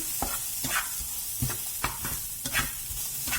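Sandwich filling frying in a pan on low heat, a continuous soft sizzle broken by regular stirring scrapes and taps of a utensil, close and alone.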